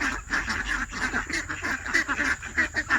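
Farm ducks and drakes quack repeatedly in a rapid, fairly close chorus, with the quacks overlapping in uneven bursts on a rainy day.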